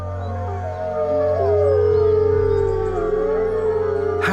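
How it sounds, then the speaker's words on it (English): Wolves in a Carpathian forest howl in long, gliding overlapping tones, several voices rising and sustaining together, loud and clear with no talking. "Their howls can carry for around 16 kilometers."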